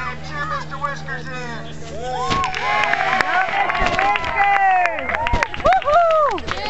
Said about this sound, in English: Everybody give the Alaska a hand